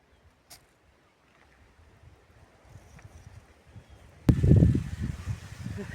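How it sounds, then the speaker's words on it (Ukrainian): A cool outdoor breeze before a storm is at first barely audible. Partway through, stronger gusts blow and buffet the microphone with a loud, low rumble. "І таким прохолодним вітерцем наче повіває."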